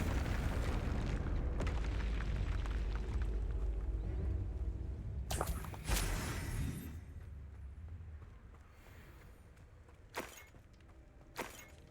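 Confringo blasting spell explosion in the game Hogwarts Legacy, a heavy rumbling boom that decays over several seconds, followed by a couple of sharp crackling bursts later on.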